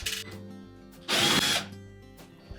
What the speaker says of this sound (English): we're going to remove two screws that secure that main top to the body of the range